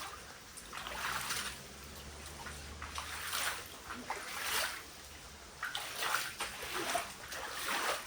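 Flood water flowing into a house after a river overflowed: splashes and sloshes in uneven bursts over a steady rushing trickle, fairly faint, with no voices.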